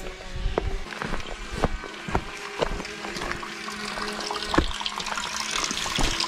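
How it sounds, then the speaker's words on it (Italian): A small stream of water trickling outdoors at a spring, a continuous close splashing flow with scattered footsteps and knocks over it, and no talking. "Qui c'è un piccolo ruscellino."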